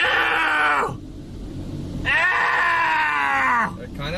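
A car wash spray machine roars very loud, a high tonal whine with sliding pitch in two long bursts and a short gap between them, close by.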